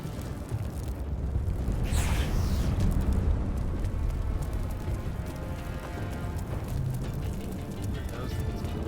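Deep cannon blasts rumble in a dense, noisy Baldur's Gate 3 game soundscape, with a sharp burst around the second mark over a constant low roar.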